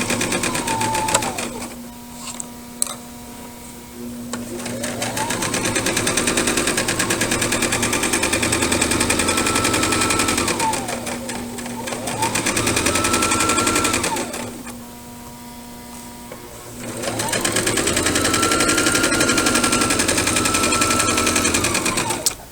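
A sewing machine stitches fabric to the fold in three long, steady runs, each starting with a rising whir and separated by short pauses with a few sharp clicks.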